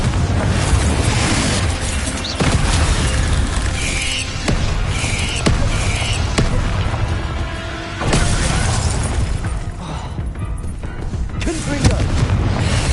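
Bombarda and Confringo spells detonate over and over in Hogwarts Legacy, a dense run of loud, close booms and blasts with sharp onsets every second or two over a constant roar of game action, with some speech-like sounds mixed in.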